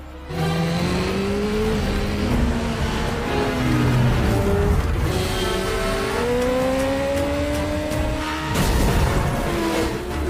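Motorcycle engines in a film chase scene roar and rev continuously, pitch climbing and falling with gear changes, loud and close, with brief whooshes as vehicles pass.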